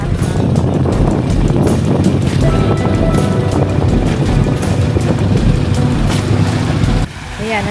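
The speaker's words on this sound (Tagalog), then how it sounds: "Medyo maalon ngayon." A boat pounds along on choppy sea waves, with loud, constant rushing water and buffeting wind on the microphone that drops away sharply near the end.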